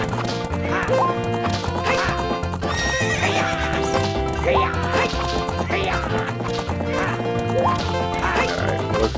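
A horse in the Zelda Ocarina of Time video game neighs and gallops, with a quick rhythmic clip-clop of hooves and repeated whinnies, loud and continuous under layered game music.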